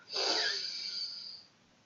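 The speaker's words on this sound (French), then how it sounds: "en prenant une profonde inspiration par le nez et en gonflant votre ventre" A single deep breath drawn in through the nose during a guided relaxation exercise, a close, airy hiss that swells quickly and fades out over about a second and a half.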